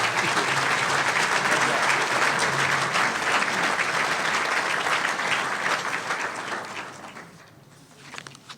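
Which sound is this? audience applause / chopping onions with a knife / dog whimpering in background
audience applause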